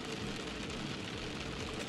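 Steady rain falls in a dense, even hiss across a surface, continuous and fairly close with no pauses or distinct drops standing out, and no voices, in a driving-in-the-rain setting.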